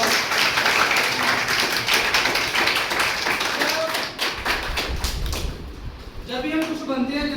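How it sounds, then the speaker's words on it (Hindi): An audience claps in lively, sustained applause at a ceremony honouring a state award recipient, with scattered taps and a voice speaking over the clapping near the end. "सिद्धार्थ सर, उनके लिए जोरदार क्लैपिंग"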